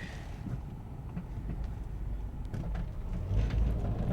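Steady low rumble of a car on the road during a test drive after a flat tire repair, with continuous road and wind noise that swells slightly near the end, no voices.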